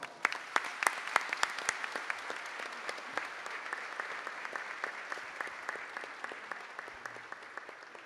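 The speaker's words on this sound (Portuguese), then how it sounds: "o prefeito Rubão de Itaguaí, no qual peço uma salva de palmas" Applause fills a council chamber during a solemn session, a dense steady clapping from a large crowd that continues throughout without pause, fairly close and even in loudness.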